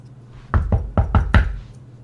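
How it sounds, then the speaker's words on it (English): Five firm knocks on the door of a brick house land in a quick uneven rhythm, close and distinct against near silence. "I knocked on the brick house."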